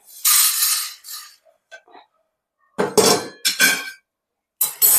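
Toor dal dry-roasting in a pan with no oil is stirred in bursts, metal spoon scraping and clinking against the pan in several sharp, close clusters separated by silent pauses.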